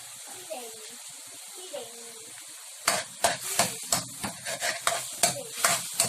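A spatula stirs chao pan rice with garlic and chicken cubes in a hot pan, first a soft sizzle and then a run of loud rhythmic scraping and tossing strokes close by.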